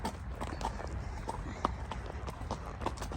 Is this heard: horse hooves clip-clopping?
yes